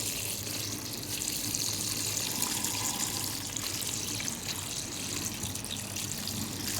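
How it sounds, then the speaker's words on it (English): Tap water runs steadily into a container of tiger nuts being soaked for carp bait, a continuous broadband gushing rush that stays even and fairly loud from start to finish, with no voices. "Add water to your tiger nuts."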